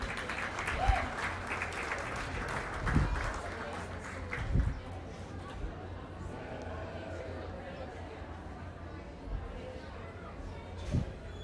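Crowd applause for the youth exhibitors at a county fair sheep show, a steady wash of clapping over the whole stretch with louder bursts now and then, and people chatting underneath.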